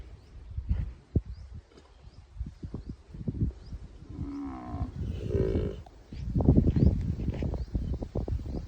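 A cow with epilepsy moos in low, wavering drawn-out calls amid scattered thumps and shuffling noises, close and fairly quiet, with no speech.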